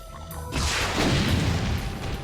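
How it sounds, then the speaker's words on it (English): A grenade going off in a video game: a sudden loud boom at about half a second, followed by a broad rumbling blast that lingers at full strength to the end. "Grenade."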